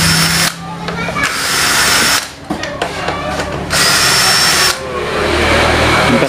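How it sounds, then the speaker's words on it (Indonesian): A cordless impact drill works on the CVT of a Yamaha Mio Soul during a starter repair, its loud whirring bursts broken by brief pauses and tool handling, recorded up close in a workshop. "kita pakai bor cas atau cordless ya"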